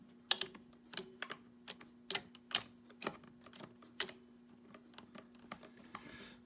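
Irregular clacking keystrokes from a Teletype Model 28 KSR keyboard during initial check-out, about a dozen sharp mechanical strikes spaced unevenly over several seconds, close and alone against a faint steady hum.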